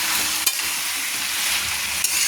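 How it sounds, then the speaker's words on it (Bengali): Chicken cooking in a pan with spices and a little water for a curry, giving a dense, continuous sizzle and hiss with a couple of brief stirring knocks, loud and close, without any speech. "জল দিয়ে চিকেনটা কষাচ্ছি মশলার সঙ্গে"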